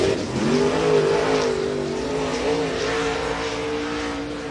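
Late model race car number 41 roaring around a dirt track during qualifying, its engine a steady, loud drone that rises slightly in pitch as it accelerates.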